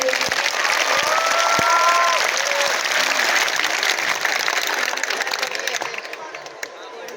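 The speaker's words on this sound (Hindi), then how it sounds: "आप सब एक बार ताली बजा दीजिए" Students at an inter college in Kanpur break into sustained applause, a broad crowd of hands clapping steadily with some background voices, slowly fading toward the end.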